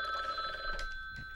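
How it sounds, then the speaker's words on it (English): A telephone rings in a studio during a live call-in show, with bright repeated electronic trills close and clear and no one talking over them. "The phones haven't stopped ringing."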